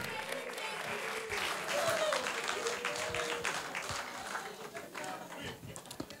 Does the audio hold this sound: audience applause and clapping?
yes